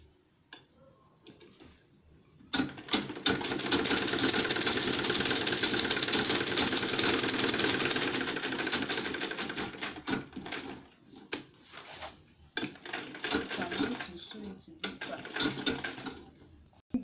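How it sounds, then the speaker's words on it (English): A sewing machine stitches the front part of an insulated lunch bag, running in one long steady burst of rapid clattering, then stopping and starting in shorter runs, close by. "So I'll sew it like this, like this."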